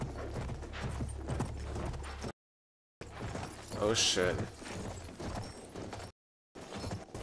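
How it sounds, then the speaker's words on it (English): Horse hooves galloping in the World War I shooter Battlefield 1: rapid clip-clop beats run through the clip, broken by two short silent gaps, while a man makes a brief exclamation. "A random ass horse out here."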